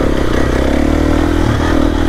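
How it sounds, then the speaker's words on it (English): A KTM 366 trail bike with an XC-F engine runs on a Montana mountain trail, its loud, close engine chugging steadily with a rough, pulsing drone throughout. "So I'm on the KTM 366. It's an XC F engine."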